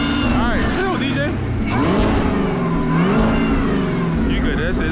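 A Camaro ZL1 with a DSX billet supercharger lid revs up close, with rising and falling engine sweeps and a high whine, while people talk over it.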